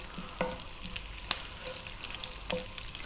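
Cumin seeds and curry leaves sizzling in hot oil for a potato samosa filling, a quiet steady crackle with scattered sharp pops and a few spatula taps, no voices.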